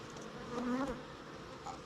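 Honey bees buzz around a hive in a steady, low drone, with one bee's whine rising nearby for a moment; faint and continuous, no voices.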